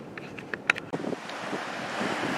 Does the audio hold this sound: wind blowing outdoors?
yes